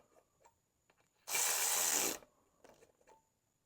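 A ratchet wrench cranking on a bolt of a Johnson 70HP outboard lower unit, one close rapid clicking burst lasting about a second, surrounded by faint workshop sounds.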